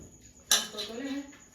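A metal cooking pot being lifted and handled during the making of potato curry. One sharp clank is followed by a short ringing rattle of metal. The sound is close and fairly quiet.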